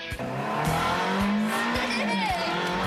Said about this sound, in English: I got a Formula One Ferrari out in the parking lot